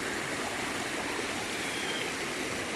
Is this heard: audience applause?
no